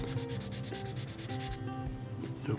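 Sandpaper rubs rhythmically back and forth over a Volvo 240 DTM model car body, making a close, even run of short scratchy strokes with a faint tonal hum underneath.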